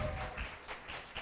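Brief scattered clapping from a small group at a youth worship service, soft and uneven, under faint room noise.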